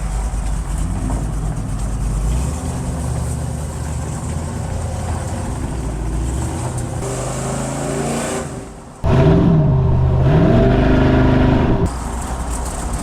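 A supercharged LS-swapped 1969 GMC C10 pickup truck drives with a steady, loud engine drone and shifting gear tones. Near the end it surges into a brief hard acceleration whose rising and falling pitch swells above the rest.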